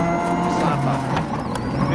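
Onboard a rally car at speed on Rally New Zealand 2002, a loud sustained engine drone with harmonic whine and gravel noise filling the cabin, with speech-like sound mixed in.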